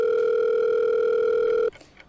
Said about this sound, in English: It's ringing, ringing.